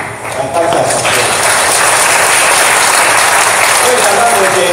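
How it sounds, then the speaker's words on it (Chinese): Applause at a church workshop on gospel small groups, a dense, steady patter of clapping from a gathered audience, loud and continuous from start to finish with some voices mixed in. "我们才四个成员，两个小弟，来当下掌声"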